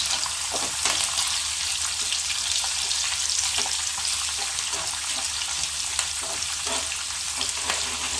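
Dried red chillies fry in hot oil with slit green chillies, giving a steady, close sizzling crackle throughout with scattered sharper pops and light stirring, no voices.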